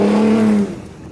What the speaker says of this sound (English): This thing has got something called equal length exhaust, so it creates a pitch that's different. So for a V6, this thing sounds pretty sweet.